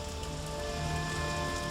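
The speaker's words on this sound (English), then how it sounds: "the rain came" Steady rain falling after days of fire in plague-era London, a dense continuous wash of drops that holds even and fairly loud throughout with no voices.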